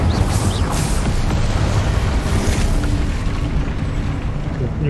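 An Incendio fire spell bursts in Hogwarts Legacy, a loud sustained roaring blast with deep rumble and crackling fire texture that holds steady for several seconds.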